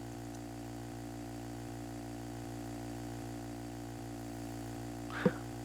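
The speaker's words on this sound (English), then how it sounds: "It's really nice how fast we can go with a small engine like this." Small boat engine from Garry's Mod hums at a steady idle-like drone, constant and moderately faint, with one brief click near the end.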